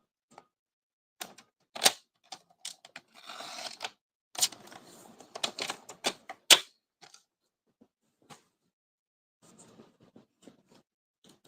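Scissors cut paper for a paper pumpkin craft, giving sharp close snips and a longer rasping cut, separated by quiet pauses.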